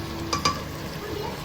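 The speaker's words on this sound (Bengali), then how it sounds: "মাটন, তার জন্য পেঁয়াজ ভাজা হচ্ছে" Onions frying in a pan ahead of cooking mutton, a steady close sizzle with two sharp stirring scrapes near the start, no talk.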